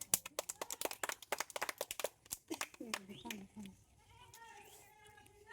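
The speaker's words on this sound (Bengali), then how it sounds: "একটা হাততালি দাও" Children clap together at a food-eating challenge, a quick burst of sharp, uneven claps that fades after about two seconds, followed by voices talking.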